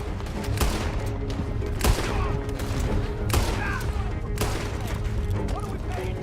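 Gunshots ring out during a stagecoach robbery in Red Dead Redemption 2, several sharp cracks spread irregularly across the scene over a busy background of rumble and clatter.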